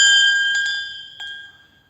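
A church bell in Ouro Preto, hung with nuts so it can swing, rings out with a bright, sustained metallic tone that slowly fades, with a couple of softer strikes rippling through the decay, loud and close.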